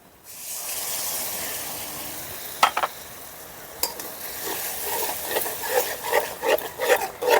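A spice mix with tomato paste sizzling in a pan for potato curry, a loud steady hiss after a brief quiet start, then clattering spoon strikes and busier scraping stirs toward the end, up close.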